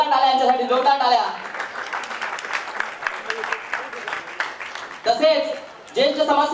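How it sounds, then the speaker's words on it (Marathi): An audience at a Marathi stage show and award ceremony breaks into a burst of applause lasting several seconds, sandwiched between stretches of an announcer's amplified speech. "जोरदार टाळ्या यांच्यासाठी जोरदार टाळ्या"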